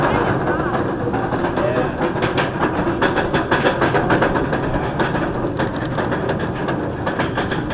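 Steady loud rumble of the original Bolliger & Mabillard hypercoaster Apollo's Chariot at Busch Gardens Williamsburg, a continuous roaring, rattling ride noise with wind and track clatter throughout.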